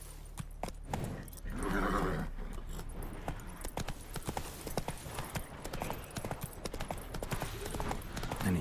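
Roach the horse's hooves clip-clop steadily while descending a mountain in The Witcher 3, a continuous rhythmic patter with game ambience and occasional fuller bursts, no talking over it.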